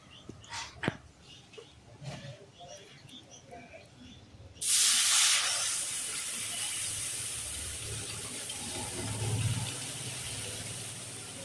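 Water pours into a kadai while khichuri is being cooked, starting suddenly as a loud rushing splash and then settling into a steady hissing flow that lasts several seconds after a quieter stretch of kitchen noise.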